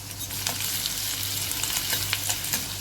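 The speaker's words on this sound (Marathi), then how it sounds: "आपलं तेल तापले, त्यामध्ये लसूण टाकलाय." Crushed, chopped garlic frying in hot oil on a medium gas flame, a continuous close sizzle with scattered crackles and pops, steady and moderately loud throughout.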